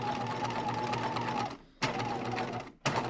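Close sewing machine stitching at a regular 2.5 stitch length in two steady bursts, a whirring hum that stops briefly between runs.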